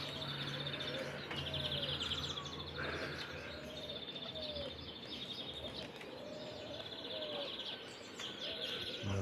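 Old-breed domestic pigeons heard from nearby, with soft repeated cooing alongside other chirping birds and a steady low background hum.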